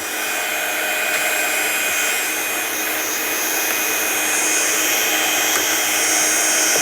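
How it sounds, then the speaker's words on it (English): A heat gun blasts steadily to dry a freshly stamped craft card, a loud, close, continuous hiss and whir that holds without a break and swells slightly toward the end, with no talking. "And then we'll just dry this one off with the gun. Give it a good old blast."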